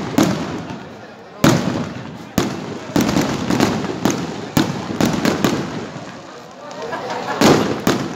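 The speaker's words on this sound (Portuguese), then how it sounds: "são os fogos de artifício de Marcos de Souza aí" Fireworks explode during a town festival celebrating the 27th anniversary of emancipation of Marques de Souza: a rapid irregular series of loud sharp bursts and crackling booms, some overlapping, with voices talking underneath.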